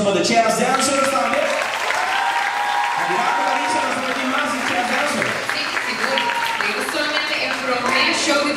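Restaurant audience applauding at a show, loud sustained clapping and crowd noise with voices mixed in throughout.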